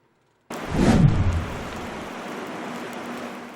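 Heavy, steady rain pours down during a storm in Barangay Tatalon, Quezon City, a loud continuous downpour that starts abruptly, with a brief low rumble near the beginning.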